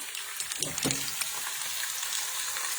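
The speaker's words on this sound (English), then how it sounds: "we have that big steak, and we're just frying it up" A big steak seasoned with pepper and garlic powder fries in a pan, giving a steady, close sizzle with a few louder crackles and stirring scrapes early on.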